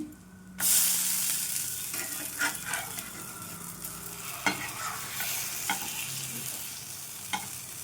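Rice flour dosa frying on a hot pan, a steady close sizzle with a few light scrapes and taps as it is turned.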